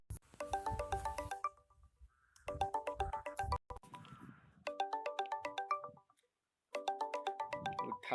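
A phone ringtone plays in repeated melodic bursts, loud and close, separated by brief silent gaps as an incoming video call rings with no talking over it.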